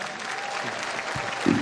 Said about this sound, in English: Please make a warm round of applause for the promoter of tonight's show